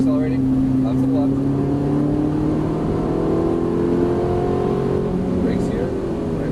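A Ferrari 458 Italia engine droning loudly on a Las Vegas race track, pitch climbing gradually under acceleration and then easing, heard up close from the cabin while an instructor's voice cuts in over it.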